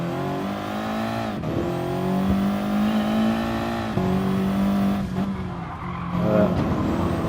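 An Audi TT races the Nordschleife in a sunny racing game as a steady, loud engine drone rises through the gears, with brief drops at shifts and occasional tire squeal, and no voices.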